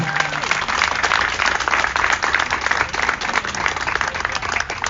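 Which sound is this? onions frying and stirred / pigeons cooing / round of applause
round of applause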